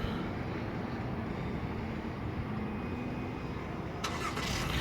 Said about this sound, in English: Remote start is actually standard on this vehicle